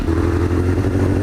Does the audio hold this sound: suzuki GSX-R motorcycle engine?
yes